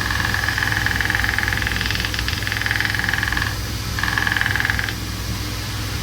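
A kydex knife sheath edge is run gently along a spinning sanding wheel, giving a steady close whine over a low motor hum that briefly drops out near the middle before resuming, with no talking.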